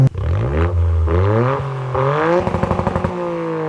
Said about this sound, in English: We just put a new exhaust on the car and it sounds amazing.